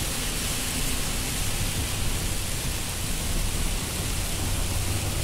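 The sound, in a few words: heavy rain falling in the desert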